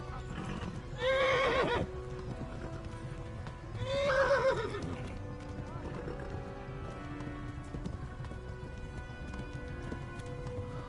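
A horse in the video game Kingdom Come: Deliverance neighs loudly twice, a few seconds apart, over steady background ambience and faint hoofbeats.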